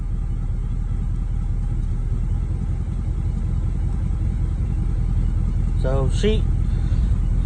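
A 1989 Camaro engine idles steadily after a cold start in cold weather, with a low continuous rumble throughout and a faint misfire, while someone talks briefly near the end.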